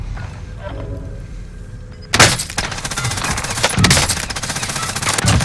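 Gunfire in a first-person shooter video game, with shots punching through a wall: a sudden loud burst of rapid automatic fire starts partway in and continues in dense, rattling volleys to the end.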